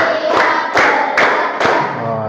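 Children in an Indonesian primary classroom clap in rhythmic bursts on a teacher's count, four to five loud group claps spaced evenly about every 0.4 seconds, close and energetic.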